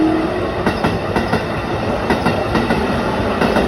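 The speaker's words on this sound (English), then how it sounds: "I love these little ground level stations where the trains pass right by." A train rumbles past close by at a ground-level station in Tokyo, with a steady clickety-clack of wheels over rail joints, loud and continuous throughout.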